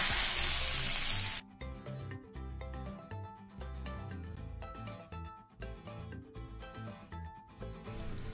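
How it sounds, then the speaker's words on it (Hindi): Soft stirring of rice with cumin seeds in ghee in a hot pan, a brief sizzle at the start then quiet scraping under background music. "अब ऐड करेंगे चावल और चावल को बिल्कुल हल्के हाथ से मिक्स करना है।"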